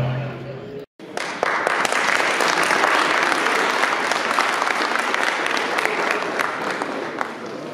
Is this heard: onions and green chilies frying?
no